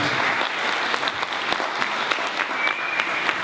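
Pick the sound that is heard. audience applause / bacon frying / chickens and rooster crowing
audience applause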